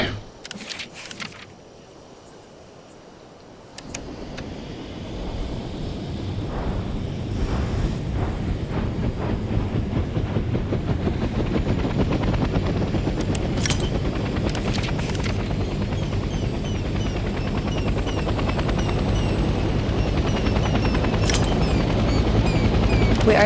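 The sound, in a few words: helicopter engine starting and flying, from video game Hell Let Loose Vietnam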